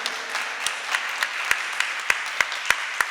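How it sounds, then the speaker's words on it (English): Sparse, scattered clapping from a small audience at a tourism conference's valedictory session, individual claps spaced irregularly over a faint room background rather than a full ovation. "All these claps for you."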